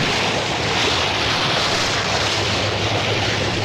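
Forty thousand gallons of lake water churn and rush out of the middle of a lake on the Universal Studios tram tour in California, a steady, loud roar of surging water that runs unbroken the whole time.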